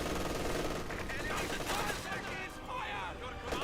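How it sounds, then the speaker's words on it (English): Bursts of MG-34 machine-gun fire from a Company of Heroes 2 battle, several guns rattling continuously among other gunfire and battle noise, with the T-34-85 tank and infantry combat going on around them, loud and dense throughout. "I hear multiple MG-34s firing."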